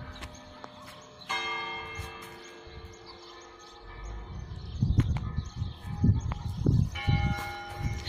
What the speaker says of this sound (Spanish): la campana gran.